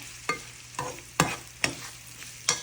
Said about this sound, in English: now that my onion and bacon is coming to a good fry